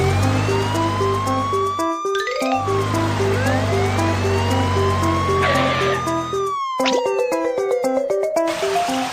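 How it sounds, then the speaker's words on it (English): A fire engine siren wails loudly and continuously, its tone rising and falling in repeated cycles with brief dropouts, up close with no talking. "Fire engine, go!"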